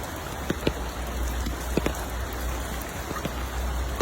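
Steady rain patters continuously, with a few sharper drops standing out against the soft, even hiss.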